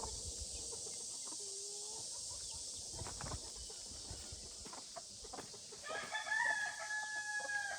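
Chickens cluck and a rooster crows over steady background noise; a longer crow stands out near the end.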